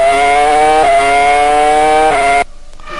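Onboard engine note from Juan Pablo Montoya's Formula 1 car at the 2003 French Grand Prix: a loud, steady high-pitched scream with two brief dips at gear changes, then it cuts away abruptly near the end.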